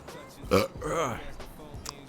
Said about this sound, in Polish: Bekry się trzeba przed jedzeniem.